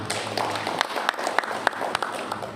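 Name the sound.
audience applause at community meeting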